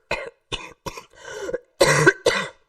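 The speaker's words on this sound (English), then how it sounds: "I'm barely controlling my cough" A string of harsh coughs, about five or six bursts in quick succession, close and loud, the last ones heavier and raspier.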